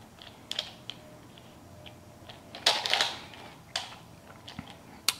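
Pieces of a bandaged Cheese Block twisty puzzle turned by hand, giving sparse plastic clicks and one longer scraping twist in the middle, close and fairly quiet.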